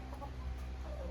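Chickens cluck softly in a winter greenhouse, faint, low murmuring calls over a steady background hum, with no voices.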